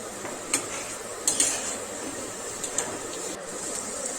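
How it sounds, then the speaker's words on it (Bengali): Eggs being lightly stirred through a rich korma sauce in a pan, a utensil scraping softly with a few sharper clinks against the metal over a steady low sizzle. "এবারে দিয়ে দেব ডিমগুলো। হালকা নেড়ে চেড়ে নেব।"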